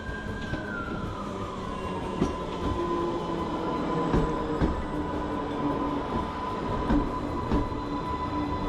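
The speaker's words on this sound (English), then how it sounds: "Here I am on the train at Shanklin for the 15-minute wait before it leaves to go back to Ryde Pierhead" Interior of a train waiting at Shanklin station on the Isle of Wight line to Ryde Pierhead: a steady low rumble of idling equipment and ventilation with a faint sustained whine, quiet and continuous with a few soft knocks.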